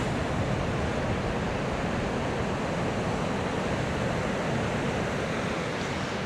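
Strong, steady wind gusts across a beachfront national park campsite, a continuous broadband roar with a hint of surf beneath it, close to the microphone and loud throughout, with no voices.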